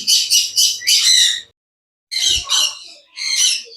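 Loud, harsh cockatiel squawks in two bursts separated by a brief silence, raspy and repeated, close to the listener with no talking.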